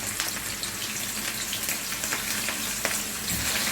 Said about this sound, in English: now I'm going to start with the frying. I'm going to add a little bit onion to it,